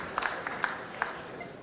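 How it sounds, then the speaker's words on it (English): A small crowd gives brief, faint applause for a carom shot in a pool match between Efren Reyes and Bibica, a thin patter of claps lasting under two seconds. "Everyone's applauding because they saw the..."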